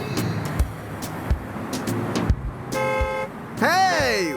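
Cartoon traffic scene with car horns honking in bursts, short toots and a long blaring horn near the end, alongside animated voices talking over the street noise.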